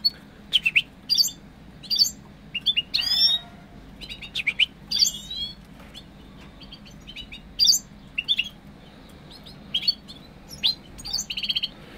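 Goldfinch singing close by: bright, rapid bursts of twittering chirps and trills in repeated phrases, standing clearly above a faint room background.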